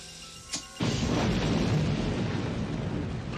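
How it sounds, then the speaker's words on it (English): A massive explosion in a horror film's operating room erupts suddenly after a brief pop, then a loud, sustained roaring rumble of blast and fire that fills the rest of the moment without any talk. "causes a massive explosion."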